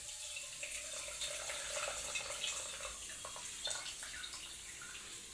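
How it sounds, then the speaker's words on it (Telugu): Water poured over tamarind in a bowl for a raw pulusu, a steady faint trickling pour with light splashing, no talk. "కొంచెం వాటర్ అయితే వేస్తాను."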